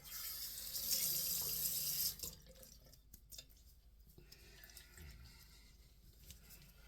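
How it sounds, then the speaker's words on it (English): A bathroom tap runs steadily in a loud, close hiss while a razor is rinsed after shaving, then shuts off after about two seconds, leaving faint drips and small clinks. "Let me rinse right quick."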